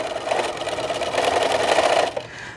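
A sewing machine stitches a quarter-inch seam in fabric for a towel topper, running as a close, loud, steady rapid whirring that stops abruptly near the end.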